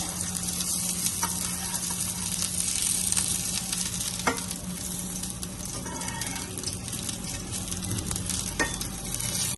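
Radish (mooli) pieces frying in a pan for chutney, a steady close sizzle with occasional scraping stirs and turning sounds, continuous and moderately loud with no talking.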